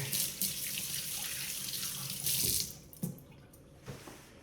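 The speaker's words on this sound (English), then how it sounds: "I'm gonna wash my hands here" A kitchen tap runs steadily into a sink while hands are washed during bread baking, the water's hiss close and continuous before easing off, with a couple of brief splashes near the end and no voices.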